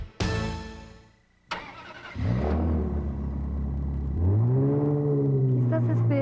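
In a radio advert, two sharp clicks are followed by a car engine cranking and starting, then a loud steady idle that rises as the engine revs, with a voice under it.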